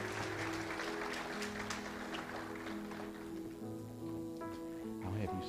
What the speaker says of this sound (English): praise the Lord with a hand clap of praise